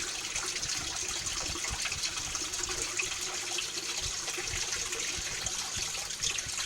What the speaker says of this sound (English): so that's where our water is coming from. It's draining out.